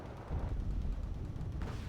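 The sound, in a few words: gunfire in video game Wargame Red Dragon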